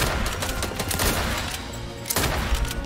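Rapid automatic gunfire from the Fortnite video game, dense bursts of shots filling the whole stretch at steady loudness, with brief swells and a sharp burst near the end.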